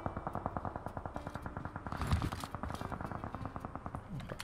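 Rapid automatic gunfire during a PUBG Mobile battle, a steady rattling stream of evenly spaced shots at moderate distance with a slight echo, continuing throughout.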